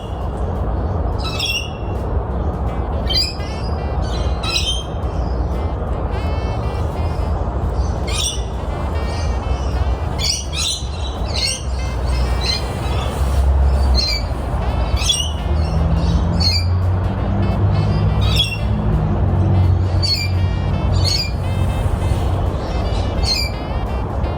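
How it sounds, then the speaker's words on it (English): Parrots squawk repeatedly in harsh, raspy bursts, scattered across the recording over a low, steady rumble of background noise. "Parrots, I'm guessing?"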